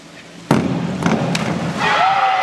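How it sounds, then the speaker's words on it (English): A diver's sharp rip entry from a springboard hits water, followed by a soft rushing spray and a lingering hiss, with faint crowd murmur in the background at a college championship. "he finishes it with a beautiful entry. You can hear the rip sound."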